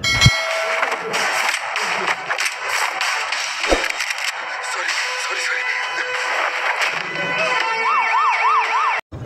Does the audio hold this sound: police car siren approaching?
yes